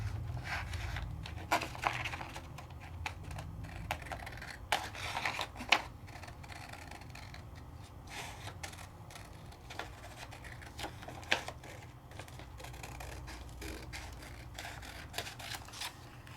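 Scissors snipping freehand through card to cut out backgrounds, a run of irregular crisp clicks and short cuts close by at low volume, with no voices.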